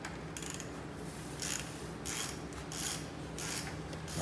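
A ratchet wrench loosening bolts while working on a truck, several short bursts of rapid clicking spaced about a second apart, fairly close over a steady rumbling background, with no talking.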